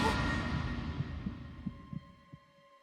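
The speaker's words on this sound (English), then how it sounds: "Junpei felt his heartbeat quicken" Heartbeat effect from the Zero Escape: 9 Hours, 9 Persons, 9 Doors video game: a few soft, deep thumps, closer together toward the end, over a steady low hum that fades out.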